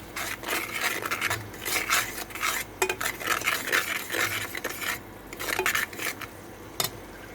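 Spices frying in oil in a pan for a Bengali dish of Malabar spinach and tilapia, with a utensil scraping and clattering against the pan in an irregular, continuous run of stirring strokes, up close.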